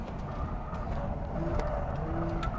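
A tuned Mazda RX-8 rotary drives steadily to bring its tires up to temperature, the engine note a constant, fairly loud drone with mild rises in pitch and no talking.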